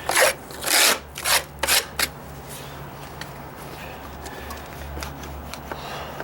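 A sheetrock knife scrapes a wooden deck stair in several short, loud rasping strokes at the start, followed by quieter, sparse scratches.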